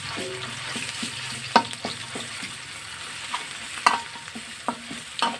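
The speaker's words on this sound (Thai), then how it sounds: "พริกแกงข้าวไปผัดนะครับ" Curry paste stir-fried in a pan for a spicy Thai catfish dish, with a steady sizzle and a run of sharp metallic scrapes and clacks from the spatula at irregular intervals, close and alone with no talk.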